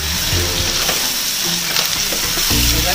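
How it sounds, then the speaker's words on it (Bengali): Ginger, chopped tomato and ground black pepper sizzle and fry in hot oil, stirred in a pan for dry chilli chicken. The crackle is loud, dense and continuous, with no talk over it. "মশলাটাকে ভালো করে নেড়ে নেড়ে ভেজে নিতে হবে।"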